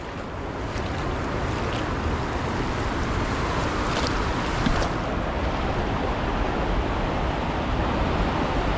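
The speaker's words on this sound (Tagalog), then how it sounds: "Malakas pala ang agos." The strong current of the Padol River in Quezon, Nueva Vizcaya rushes past as a steady, close, broadband roar of flowing water, with no talk over it.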